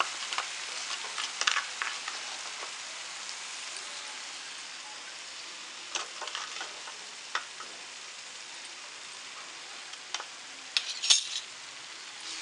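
Mutton kheema masala being stirred in a pan over low gas, with soft scraping and faint sizzling, plus scattered light clinks of the utensil against the pan, quiet and steady throughout.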